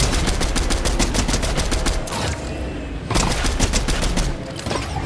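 Rapid bursts of gunfire from the Fortnite video game, dense repeated shots for about two seconds, a brief lull, then more volleys resuming, loud and close with no talking.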